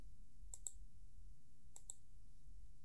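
A computer mouse gives two quick double clicks about a second apart, crisp and close against a quiet background hum.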